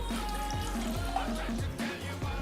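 Hot water pours into a French press, a soft steady trickle and splash of liquid that stays fairly quiet and close for a couple of seconds.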